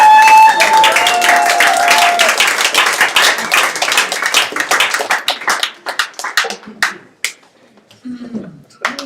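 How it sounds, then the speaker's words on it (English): A live improv audience at a fundraiser claps loudly and densely up close, the applause thinning into scattered individual claps and a few cheers as it dies down. "Round of applause"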